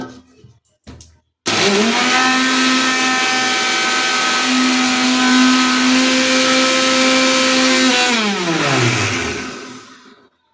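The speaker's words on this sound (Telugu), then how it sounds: "ఇప్పుడు మిక్సీ పడదాం." An electric mixer grinder runs steadily for about seven seconds at a loud, even pitch while grinding homemade kumkuma with a small piece of camphor, then winds down smoothly to silence.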